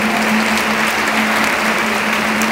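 Sustained applause from an audience at a community gathering, dense steady clapping throughout with no pauses, fairly loud and close.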